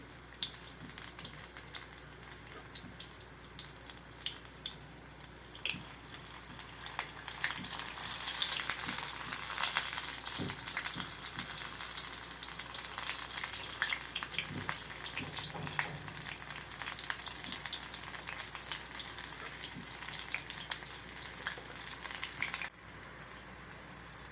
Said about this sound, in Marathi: आपल्याला छान गोल्डन ब्राऊन होईपर्यंत तळून घ्यायचे